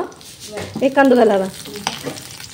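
Tempering spices crackle and sizzle in hot oil in a short, close burst, with a brief tonal hum rising over the frying noise midway.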